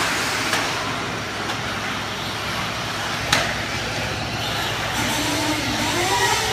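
A race car's engine noise drifts in from a track, a steady roadway-like rumble at a distance with a couple of brief sharp bursts, no voices over it.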